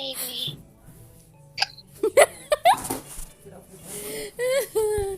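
A young girl with hiccups lets out several sharp, squeaky hiccups at irregular intervals, close and fairly loud, mixed with whimpers, a little laughter and some brief speech.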